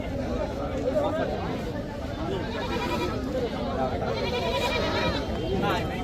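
Goats and sheep bleat repeatedly at an Eid livestock market, including a four-toothed goat up for sale, with several overlapping calls near and far under steady crowd chatter and voices.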